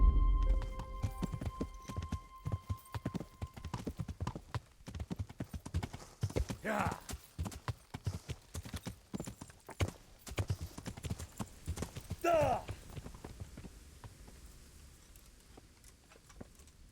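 A horse's hooves clip-clop at a steady trot in Kingdom Come: Deliverance, crisp and close, and the rhythm gradually fades toward the end. A couple of short whinnies break in partway through.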